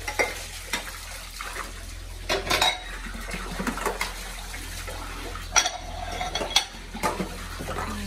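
Dishes being washed by hand, with plates, pots and cutlery clinking and scraping against each other alongside splashes of running water, in irregular close bursts with no talking.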